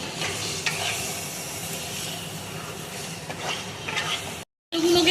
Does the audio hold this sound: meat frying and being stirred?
yes